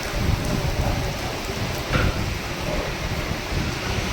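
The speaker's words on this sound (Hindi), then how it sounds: "देखो ये कितनी तेज़ बारिश पड़ रही है।" Heavy rain pours down steadily in the morning as a dense, constant roar, with no voices over it.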